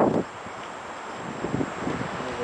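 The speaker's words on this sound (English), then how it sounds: "There's some wind." Gusty wind ahead of an approaching storm rushes steadily past the microphone outdoors, a broad continuous roar with faint rustling, moderately loud and with no talk.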